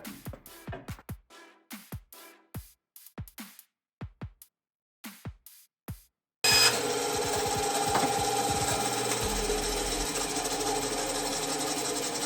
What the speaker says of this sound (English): Bandsaw time.